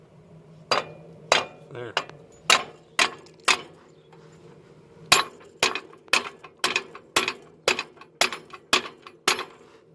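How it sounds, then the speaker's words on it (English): Repeated sharp metallic hammer strikes drive a roll pin home on farm seeding equipment, about fifteen ringing blows in a steady rhythm with a brief pause midway, close and loud, with a short spoken word. "then you use your roll pin hammer and you drive her home"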